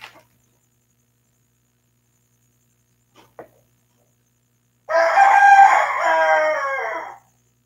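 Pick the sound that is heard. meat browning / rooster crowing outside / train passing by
rooster crowing outside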